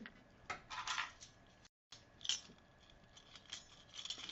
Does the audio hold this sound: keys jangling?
yes